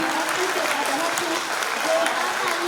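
Applause for a young girl after her song at a 75th Independence Day flag-hoisting event, a steady, even clapping from an audience lasting the whole moment with no voices over it.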